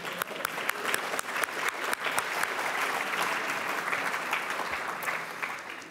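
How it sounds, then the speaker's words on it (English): A lecture-hall audience at a plenary session breaks into sustained applause, starting with scattered sharp claps that quickly swell into dense, steady clapping across the room. "I feel like we need to clap"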